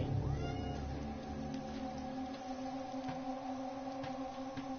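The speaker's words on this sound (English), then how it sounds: "And my cat is saying hi." A pet cat meows and caterwauls in a long drawn-out call close to the microphone, over steady background music from a Titanfall 2 game session.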